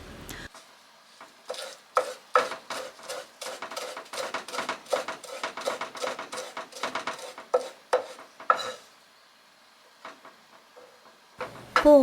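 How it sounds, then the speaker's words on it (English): A knife chops vegetables finely for a somen salad, giving a quick, regular run of crisp, close taps on a cutting board that pauses and resumes, with no talking. "I'll finely chop the vegetables so they mix in easily with the somen"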